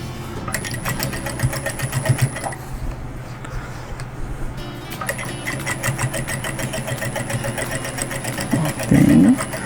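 A sewing machine stitches the border of a dish towel in two fast, steady runs of rhythmic needle chatter, with a brief quieter pause between them.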